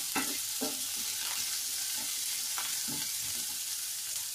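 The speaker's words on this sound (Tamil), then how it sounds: "நம்ம கட் பண்ணி வச்சிருக்க வெங்காயத்தை இதோட சேர்த்துடலாம். வெங்காயம் வதங்கணும்." Chopped onions frying in a pan with pepper for an egg and capsicum curry, a steady loud sizzle with intermittent scraping stirs throughout.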